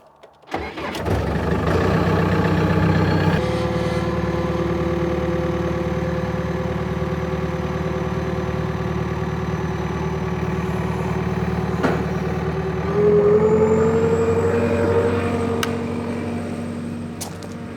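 A skid steer's diesel engine cranks and catches, then runs at a steady loud idle close by, its pitch rising slightly near the end as the throttle is nudged up.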